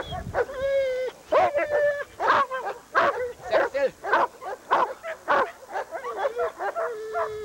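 A dog barks and yips repeatedly in quick, uneven bursts, fairly close and prominent, with whimpering tones between barks and a brief voice heard.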